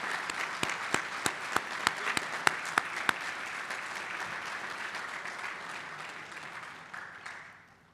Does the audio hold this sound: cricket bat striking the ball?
no